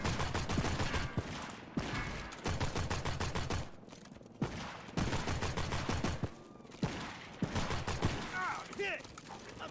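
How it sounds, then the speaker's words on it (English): Gunfire in Postal 4 hitting the player, rapid automatic bursts rattling in repeated close, loud volleys separated by brief gaps, with someone talking in between. "I'm taking fire!"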